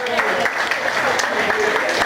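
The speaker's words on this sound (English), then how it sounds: "Round of applause, round of applause." Applause from an audience at a football fan-show season finale recap, a dense steady patter of clapping running throughout under a talking voice.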